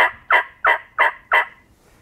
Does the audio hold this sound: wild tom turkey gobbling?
yes